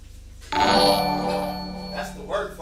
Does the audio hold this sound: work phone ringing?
yes